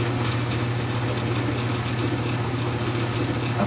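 A lubricity test machine switched on and running, with oil carried over a race, giving a steady, even mechanical hum with a low drone and broadband whir, constant and close, with no talking.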